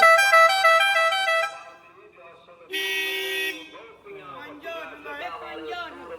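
A car horn toots in several bursts, a bright honk, then a pause, another blast, and further honks mixed with street noise.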